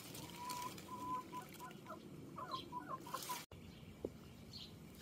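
Hens cluck softly in a garden near blackcurrant bushes, a run of short repeated clucks and trills at a moderate distance over a quiet outdoor background, with one brief thump near the end.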